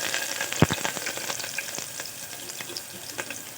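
Green chillies and whole spices frying in hot oil for a chicken curry, giving a steady close crackling sizzle with a sharp clack of a spoon or utensil early on and light scraping throughout.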